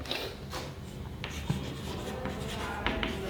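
A pen scratches across paper while a maths problem on a square plot is written out, a close, steady writing sound with a few light taps and no speech.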